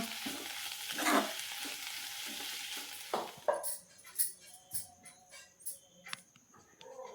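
Fresh fenugreek leaves tipped into a hot pan, a burst of frying sizzle giving way to clinking and scraping stirring strokes, moderately near with quiet gaps between them.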